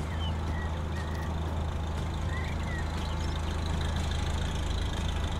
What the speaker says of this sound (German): Super, die Traktoren, großartig.